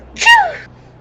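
A single short, sharp human sneeze, close and loud, with a quick rising then falling burst, alone.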